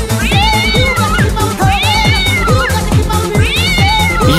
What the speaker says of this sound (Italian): anche il disco dei Systematic aveva il gatto in mezzo